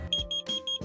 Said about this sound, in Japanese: 一酸化炭素警報器もつけてます。 ちょっとテストするとこのようにうるさいんですけれども